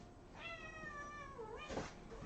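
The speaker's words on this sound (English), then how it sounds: "She said, meow." A house cat meows once, a long drawn-out clear meow close by, followed by a short quieter second call and a faint rustle, heard alone in a kitchen.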